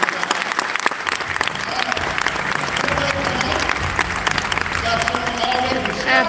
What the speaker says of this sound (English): Let's give Kelly a round of applause.